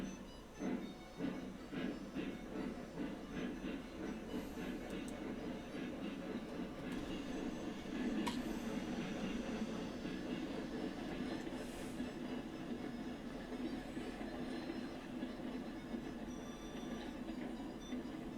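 A train rolls steadily along the track in the Railroads Online game, a continuous rumbling drone with faint rhythmic wheel clicks and occasional squeals, running alone without talk throughout.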